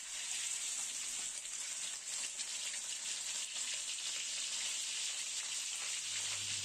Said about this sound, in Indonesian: tetelan babi yang sudah dirajang halus kita goreng